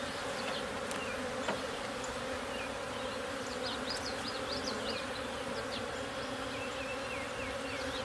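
Honeybees buzzing around an opened hive during a spring inspection, a steady close swarm drone with individual bees whining past near and far, no talking.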